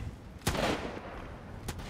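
Two sharp gunshots in the zombie farming game The Last Farmer, one loud crack followed by a fainter second shot about a second later, fairly quiet overall.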